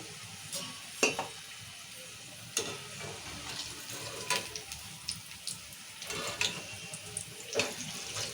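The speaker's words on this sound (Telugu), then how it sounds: "ఇప్పుడు మొత్తం బెండకాయ అంతా ఇట్లానే ఫ్రై చేసుకోవాలి" Okra pakodi (bhendi fritters) deep-frying in hot oil, a steady crackling sizzle broken by sharp pops and splutters, close by with no talk.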